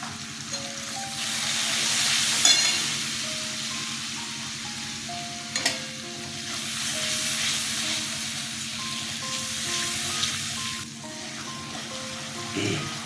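Spice paste with turmeric fries in a pan for a hilsa and brinjal curry, giving a continuous moderate sizzle with a few sharper crackles and a faint tonal hum underneath.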